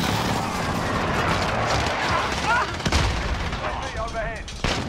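Gunfire rattles through a Call of Duty: Modern Warfare match, with rapid bursts and sharp, punchy shots repeating over a noisy battlefield backdrop, a few louder cracks standing out near the end.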